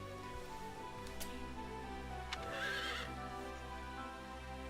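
A horse in Fire Emblem: Three Hopes gives a whinny, a thin high neigh rising over a steady low game ambience, with a brief click before it and a soft rustle after.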